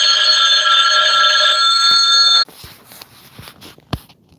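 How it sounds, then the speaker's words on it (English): A telephone rings indoors in a woodworking shop with a loud, steady electronic trill for about two and a half seconds, then stops, followed by faint knocks and clicks. "The phone call came in."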